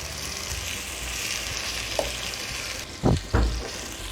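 Chicken drumsticks for a chicken wrap fry in oil in a non-stick pan with a steady, close sizzle, and a few sharp clunks near the end as the pieces are moved.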